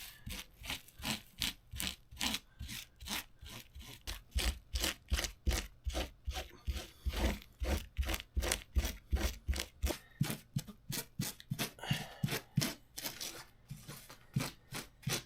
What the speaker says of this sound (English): Let me just get a brush and see if we can brush that as well.